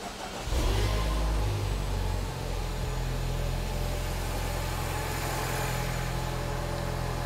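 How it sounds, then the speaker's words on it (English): A car with a regular lead-acid battery cranks briefly and catches. It settles into a loud, steady idle that runs evenly to the end. "I start up the vehicle."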